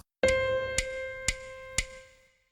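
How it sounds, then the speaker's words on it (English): A single sustained piano note rings out, with three more soft attacks repeating on the same pitch at even intervals as it slowly fades. "If we use the piano to play these notes,"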